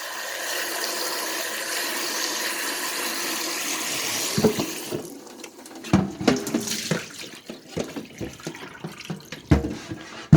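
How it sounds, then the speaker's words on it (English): A steady rush of tap water poured into a Keurig coffee maker's reservoir for several seconds, then stops, followed by scattered clunks and splashes of handling nearby. "you're going to pour heavily into the reservoir like this"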